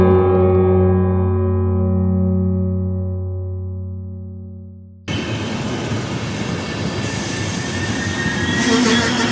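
A train pulls into a station: a long, steady horn-like tone holds for about five seconds, then cuts to a loud, continuous rumble and rattle of rolling carriages with faint squeals.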